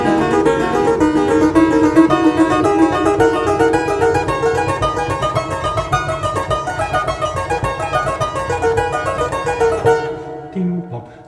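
A Cramer etude is played on a clavichord in a rushed, hurried technical style: a continuous stream of quick, thin plucked-string notes for about ten seconds, then it stops abruptly with a brief faint sound.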